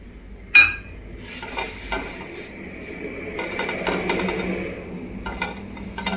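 Vada pav buns heating in a little oil on a pan, a steady soft sizzle with a sharp metallic clink at the start and light scraping and stirring sounds throughout.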